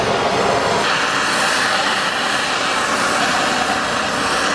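A cutting torch preheats a hefty chunk of thick steel set between half-inch plate and a massive axle housing on a one-ton Range Rover camper build, giving a steady, loud, roaring broadband hiss that runs continuously without a break.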